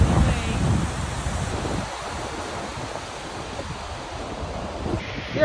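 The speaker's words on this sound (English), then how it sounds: "We are getting closer and closer to the falls." Tall waterfall heard from nearby as a steady broad roar of falling water and drifting spray, mixed with gusty wind rumble on the microphone, loud and continuous, with no talking.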